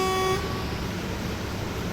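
A car horn on a road gives one short, loud, steady toot at the start, then cuts off into a continuous rumble of engine and traffic noise.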